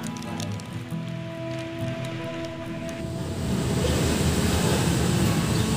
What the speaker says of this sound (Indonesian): Di sini saya laporkan hujan gerimis rintik